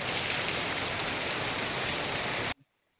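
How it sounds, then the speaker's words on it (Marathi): Steady, dense rainfall in the Konkan countryside hisses evenly and close for a few seconds, then cuts off abruptly into near silence. "बघा हा पाऊस आहे मागच्या बाजूला पाऊस जास्त पडतो"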